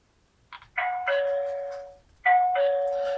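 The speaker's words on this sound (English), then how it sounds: "So at the moment when you press the bell," A GazingSure smart WiFi video doorbell chime sounds two clear bell-like tones in succession, each ringing out and decaying, close and fairly loud against a quiet room.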